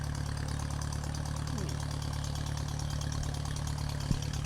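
Tractor engine running steadily during a tractor ride at a township fall heritage festival, a loud, even low-pitched drone with a faint creak partway through.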